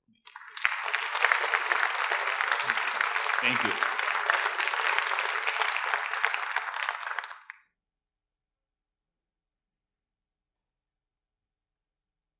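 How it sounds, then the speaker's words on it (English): Applause from a holiday youth concert audience in Michigan, broad and steady for about seven seconds before cutting off, with a brief spoken thanks near the start. "Please give him applause for me."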